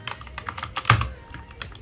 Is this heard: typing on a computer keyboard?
yes